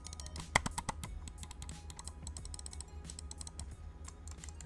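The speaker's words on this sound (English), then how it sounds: "This is the sound of a Basilisk Hyperspeed Razer mouse." Quiet, rapid clicks from a Razer Basilisk Hyperspeed wireless gaming mouse, a soft scattered run of taps close up with no voices.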